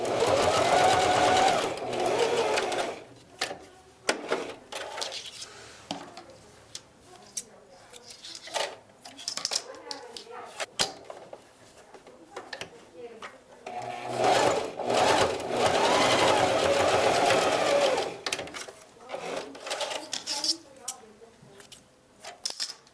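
A sewing machine stitches the fabric pieces of a face mask together in several bursts of rapid whirring, pausing and restarting between runs, close up.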